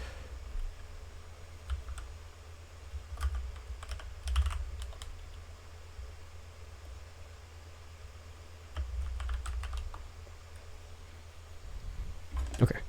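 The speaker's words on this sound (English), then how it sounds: "Some keyboard ASMR or something. I don't really know. I need to type some stuff." Typing on a computer keyboard in a quiet room, scattered bursts of soft clicky keystrokes with pauses between them over a low steady hum.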